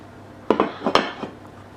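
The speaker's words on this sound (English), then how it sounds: "we want to put the lid back on" A lid set back onto a braising pot of beef short ribs, giving a few close metallic clanks and rattles in quick succession, then settling quiet.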